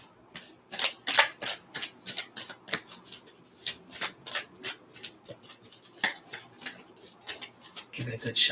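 A deck of oracle cards being shuffled by hand, with quick repeated riffling bursts close up throughout, followed by a louder thump near the end.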